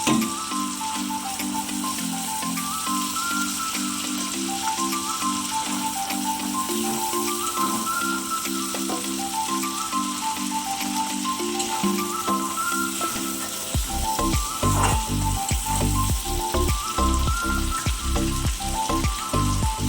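Spice paste with mustard sizzles in oil for a koi fish curry, heard faintly under a tonal music bed at first. The frying crackle and stirring scrapes grow louder and busier in the last few seconds.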